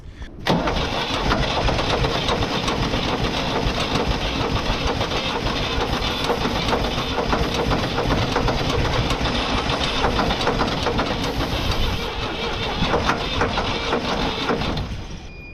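An engine jump-started from a 12-volt jump pack catches almost immediately and then runs as a loud, steady, close idle with a rough mechanical rumble for about fifteen seconds before it cuts off.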